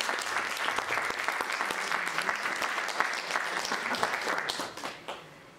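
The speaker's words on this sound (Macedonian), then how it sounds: "За сите деца кои што сте денес тука аплауз еден." Audience applauds the children at the opening of a children's song and dance festival: steady, dense clapping from a large crowd that fades out near the end.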